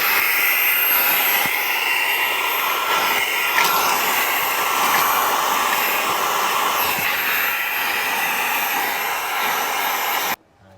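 A Fanttik X200 cordless vacuum cleaner runs on its high setting, giving a loud, steady, high-pitched whine that holds for about ten seconds before cutting off abruptly.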